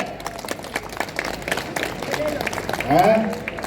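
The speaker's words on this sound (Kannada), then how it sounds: "ಚಪ್ಪಾಳೆ" Scattered applause from an audience at a ceremony honouring theatre groups, uneven claps rising and fading, mixed with voices and crowd noise.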